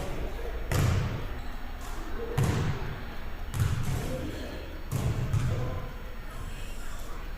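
Basketball shots by youth players from college range on an indoor court, with the ball landing in a heavy thud roughly every second or so, five bounces in a row over a steady background of gym noise and voices.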